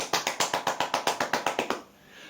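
About a dozen quick, even hand claps in a steady rhythm, close and crisp, stopping abruptly before a short quiet tail, with no talking.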